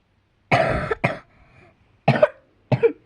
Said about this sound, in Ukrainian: Отак ну я кашляю.